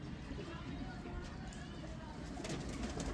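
Paired pigeons coo on a rooftop loft in Islamabad, steady low calls layered within a dense, continuous din of nearby birds and background noise, with voices faintly present.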